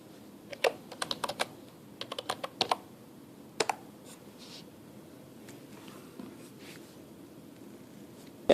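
Typing on a Blackweb wireless touch keyboard, with quick clusters of light key clicks and taps followed by a few scattered presses and quieter pauses, close to the microphone in a quiet room.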